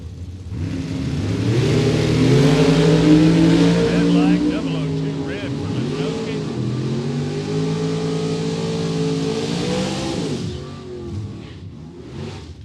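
Drag racing cars, including a Camaro, launch at a Super Pro bracket race, loud engines roaring and revving steadily for about ten seconds before cutting off, with a track announcer talking over them.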